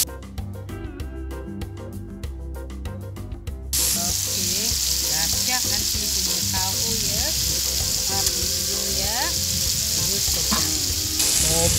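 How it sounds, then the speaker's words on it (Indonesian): Garlic frying in hot oil in a wok for stir-frying with shrimp, a steady loud sizzle and crackle that bursts in after a short musical opening and continues evenly to the end, with no talking. "kita nak tumis bawang putih ya"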